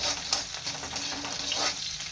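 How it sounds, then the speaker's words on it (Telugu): Green chillies and curry leaves crackle and sizzle in hot oil for a tomato chutney, a dense close frying hiss with stirring and a few sharp pops. "కొద్దిగా 2 రెబ్బలు కరివేపాకు కూడా వేసుకొని వేయించుకోండి."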